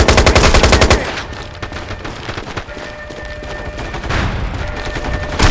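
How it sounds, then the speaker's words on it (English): Machine gun fire in the PlayStation 3 shooter MAG, a loud rapid rattle of close automatic shots at the start, then continued gunfire and battle noise with intermittent bursts. "And I gotta shoot the gun,"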